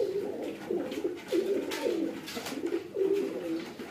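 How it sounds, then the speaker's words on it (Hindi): Several pigeons, including a Russian breed, coo in overlapping, repeated low phrases, fairly close, with a steady soft rhythm and no talking. "मेरे ख्याल से रूसी कबूतर नीचे आ गया हुआ दाना खाने"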